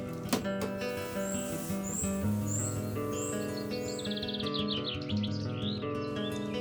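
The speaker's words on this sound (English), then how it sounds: "Now in autumn, even the birds don't sing that much." Small birds chirp in a quiet rural Swedish setting in autumn, short repeated tweets and trills sounding over a steady background of layered tonal hums.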